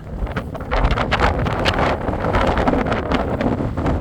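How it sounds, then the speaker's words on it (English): Strong wind buffeting the microphone at the Montsec American Monument, among stone pillars on a hilltop, a loud continuous rumbling roar with gusty swells throughout. "I'm trying to block myself from the wind from these pillars"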